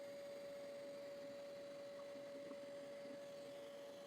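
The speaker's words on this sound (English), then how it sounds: "the spindle's getting a chance to warm up" A CNC router spindle runs steadily as it warms up during a wood carving pass, a constant high whine over a low continuous hum, quiet and unchanging with no talk.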